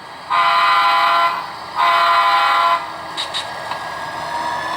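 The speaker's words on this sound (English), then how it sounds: "get a little shot of the steadiness of the train moving on out" Two long, loud train horn blasts sound close by as the train moves out, followed by shorter faint toots over a low background rumble.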